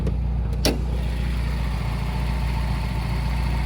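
A Ford Escort GT with 350,000 miles idles with a steady, low, even engine hum at close range, broken by one brief sharp click near the start.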